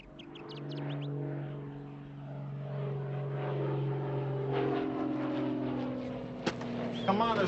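A propeller airplane coming in to land drones steadily, its engine hum rising gradually over several seconds during an outdoor scene in a TV drama, with a sharp crack and some clatter near the end.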